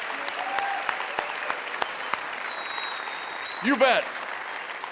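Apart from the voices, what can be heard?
audience applause for the inductee class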